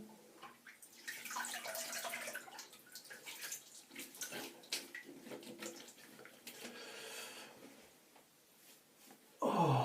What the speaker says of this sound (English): Now I'm going to wash off my alum.